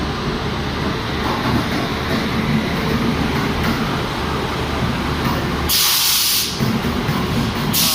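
A Mumbai–Jaipur superfast express of Indian Railways passes at a station in Vadodara, giving a steady loud rumble and rolling hiss of the wagons, then a burst of brighter hissing noise near the end.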